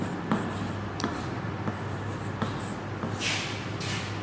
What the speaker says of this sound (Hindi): दो मैं यहाँ पे लिख रहा हूँ